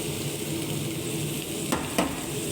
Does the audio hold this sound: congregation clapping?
no